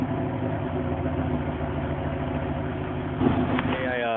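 Stock exhaust of a 5.3-liter LS4 V8 Pontiac Grand Prix GXP, a steady low idle burble recorded up close with a slight rise near the end.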